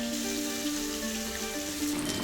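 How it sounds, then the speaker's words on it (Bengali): Katla fish pieces rubbed with salt and turmeric frying crisp in hot oil, a steady close sizzle with a faint tonal hum running underneath, no talking. "মাছটা একটু কড়া করেই ভাজলাম"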